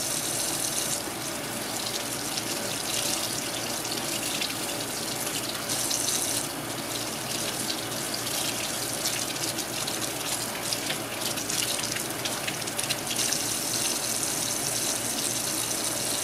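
Water runs steadily from a sink tap as hands are rinsed, a continuous close splashing hiss with small fluctuations throughout.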